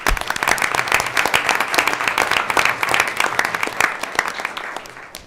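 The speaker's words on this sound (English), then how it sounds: "maybe one more round of applause" Applause during a school board of education meeting, with many individual claps audible as sharp, uneven hits in a moderately sized crowd, clapping steadily before thinning out and fading at the end.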